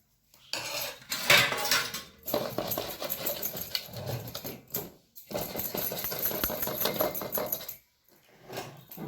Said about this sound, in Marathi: आता हा रस आंब्याचा रस पूर्ण आम्ही ह्या प्लेटमध्ये टाकतो आहे